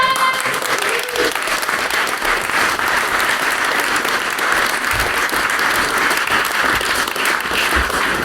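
An audience in a church hall gives a sustained round of applause for a live music act, loud, dense clapping that stays steady from start to finish with no talk over it.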